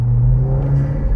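A loud, deep engine rumble and intake drone from a SEAT Leon Cupra with a Revo induction kit hold steady at close range, with a faint whir rising briefly midway.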